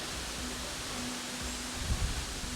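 Steady broadband wind noise blowing continuously, with a low rumbling gust near the end and a faint tonal hum underneath.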